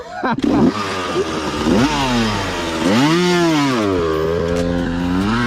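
A Yamaha YZ 250 two-stroke dirt bike engine revs hard up and down in repeated rising and falling sweeps, loud and close, with a brief clatter at the start.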